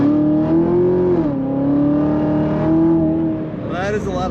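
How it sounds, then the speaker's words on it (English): A 2016 Chevrolet Corvette Z06 Coupe 3LZ revs hard on throttle from the cabin, a loud, deep engine note rising and dipping as it pulls through gears, with a voice speaking over it. "Let's hit that throttle again."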